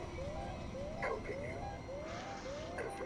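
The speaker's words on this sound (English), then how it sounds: "They can hear that beeping." In the video game Alien Isolation, a quiet electronic beep repeats five times at an even pace, each a short rising chirp, with faint clicks and game ambience underneath.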